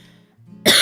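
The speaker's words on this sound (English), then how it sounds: "I'm coughing." A single sharp, close cough bursts out abruptly at the end after a quiet moment, loud and brief.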